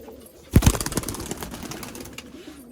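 Malwai and Kagzi pigeons burst into loud close wing flapping, a quick cluster of claps that tapers into fainter fluttering and soft cooing, no talking.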